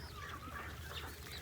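Chickens on a chicken farm cluck steadily and close by, a dense overlapping chorus of hens with bird calls layered over a continuous low farmyard hum, no talk.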